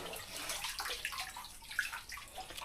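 Water rushes steadily into a small outdoor pool just cleared of weeds, filling it fast: a continuous splashing, gurgling flow at moderate loudness with small bright bubbling bursts, and no voices.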